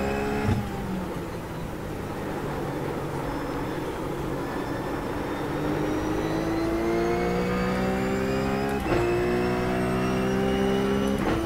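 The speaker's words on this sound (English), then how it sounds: "And this car is just a lot of fun around here." A RUF C Spec race car in iRacing laps Phillip Island, its engine note rising steadily through the gears with a sharp shift around nine seconds, loud and continuous with no talk over it.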